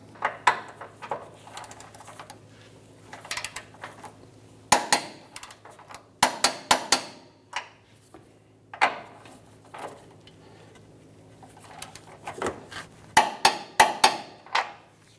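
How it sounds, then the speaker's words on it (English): A torque wrench tightens control arm bolts to 111 foot-pounds on a 2002-2005 Ford Explorer, sharp metallic clicks and ratchet bursts in scattered clusters over a low steady hum, close and alone. "Now we'll torque each of them to 111 foot-pounds."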